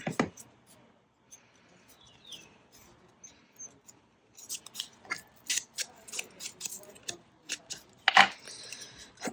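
Scissors snipping through paper for a handmade journal booklet: quiet rustling at first, then a run of sharp, irregular close cuts and crinkles, with one louder crackle near the end.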